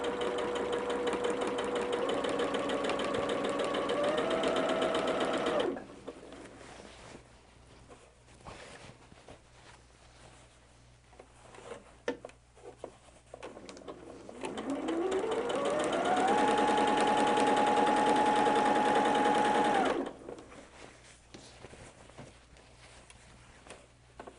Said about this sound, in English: So we will do a little back stitch, a little bit of overlap